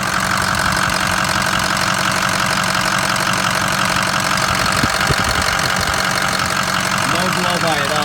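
A 2007 Ford F350 diesel engine idles steadily and close by, a continuous rumbling drone with a faint knocking texture that runs unbroken throughout.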